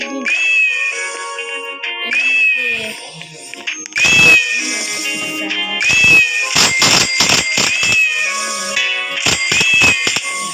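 A cartoonish cat meows repeatedly in the video game Steal a Brainrot, a series of high bright meows with rhythmic game beats and clicks between them, loud and up front.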